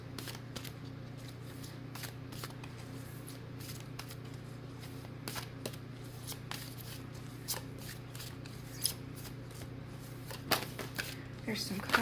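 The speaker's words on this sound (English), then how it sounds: "just shuffle the cards, be thinking of the energies." A deck of tarot cards is shuffled by hand in a quiet room, giving soft, rapid riffling and slapping bursts that repeat steadily, fairly close but low in level, with occasional sharper snaps.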